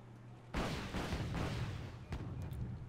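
Anti-ship missiles launch in a naval combat video game, a sudden loud booming whoosh followed by several overlapping rumbling launches in quick succession.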